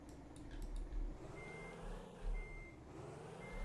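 A truck in Truck Simulator Ultimate backs up, sounding regularly spaced reversing beeps over a steady low engine rumble, with a hiss of air brakes near the start.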